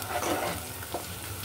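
Onions fry in oil to a crisp brown beresta for beef bhuna khichuri, a short soft sizzle with a faint stir partway through.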